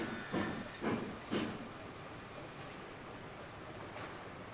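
A locomotive chugs along in a game: three rhythmic steam-like bursts at the start, then a steady hissing rumble that fades down, with no talking.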